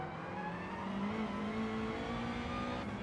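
A race car in Gran Turismo 7 accelerates with a steady, rising engine drone, heard moderately loud and unbroken with no talk over it.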